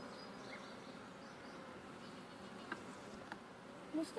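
Honeybees buzz around an opened beehive at a ranch, a steady dense hum of many agitated insects close by, with a few faint handling knocks near the end.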